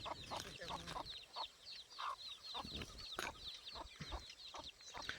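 Desi hens cluck and chatter continuously in a lively flock with chicks on a farm, with rapid repeated calls layered over one another outdoors.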